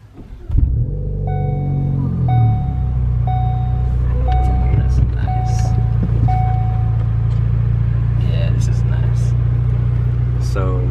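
The engine of a 2017 Ford Focus ST cranks and catches, then settles into a steady low idle rumble close by, while a repeating dashboard chime sounds several times over it.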